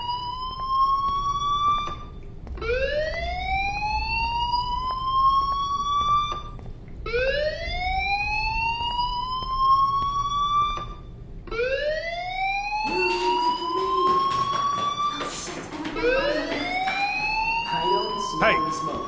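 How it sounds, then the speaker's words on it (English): A fire alarm in the video game Life is Strange wails in four repeated rising whoops, loud and steady, with muffled voices joining under the final cycles. "Hey, do you hear that fire alarm?"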